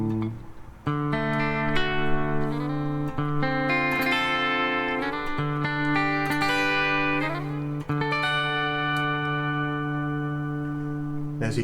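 A clean electric guitar, a Flying V through its pickup, rings out in sustained chords and single notes, bright and steady, with strums spaced every couple of seconds and no talking.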